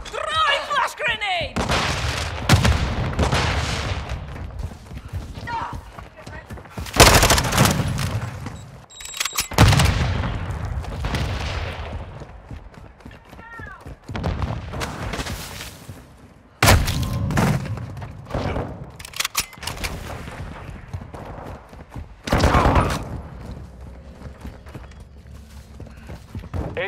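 Hardcore Mosh Pit multiplayer in Call of Duty Modern Warfare II: repeated bursts of rifle fire and booming frag and flash grenade blasts over nearly half a minute, with in-game voices calling out between the shots.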